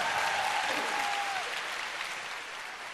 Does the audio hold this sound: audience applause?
yes